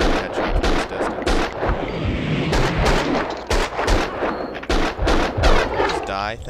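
Rapid gunfire from the Max Payne 2 video game, a loud, dense run of repeated shots and bursts filling the whole stretch, with brief gaps between volleys.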